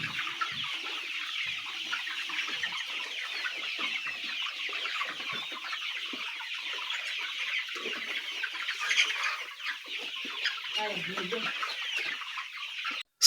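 Chickens cluck and cheep in a brooder, forming a dense, continuous, close-up chorus of high chirps that runs unbroken throughout.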